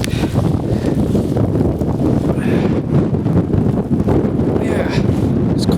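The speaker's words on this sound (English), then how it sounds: "there's quite a wind up here" Strong wind buffets the microphone on a snowy hilltop along the Pennine Way, a constant loud roaring gust with no break throughout.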